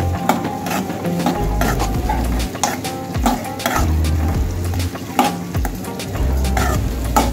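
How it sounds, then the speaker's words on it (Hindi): Malai kofta masala frying in a pan over high heat, continuous sizzle punctuated by frequent clanking stirs and scrapes of a spoon against the pan, close and loud, with no speech. "तो अब फ्राई करते रहना है आपको 10 से 20 मिनट तक"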